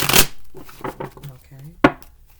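Close, crisp riffling bursts of cards being shuffled, one at the start and another sharp one later, with soft speech murmured in between.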